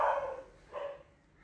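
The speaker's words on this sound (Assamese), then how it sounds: "আমাৰ ইয়াত কুকুৰৰ হুলস্থুল চিঞাও নকমে, কলনীত ইমানেই কুকুৰ আছে মানে" Dogs barking in a residential colony, two short barks a moment apart, faint and somewhat distant.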